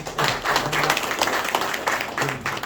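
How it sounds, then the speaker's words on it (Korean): A small crowd at a farming education session claps in welcome of a visiting lecturer, a short burst of dense, steady clapping with a voice murmuring faintly underneath. "큰 박수로 다시 한번 환영해 주시죠"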